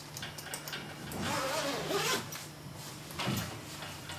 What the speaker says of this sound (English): This coat does have a central zipper.